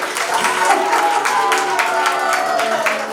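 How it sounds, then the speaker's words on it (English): Wedding guests at a reception in a restaurant applaud the bridal party, a dense, steady crowd clapping close by, with a voice speaking over it. "Continue the applause for our gorgeous bridal party"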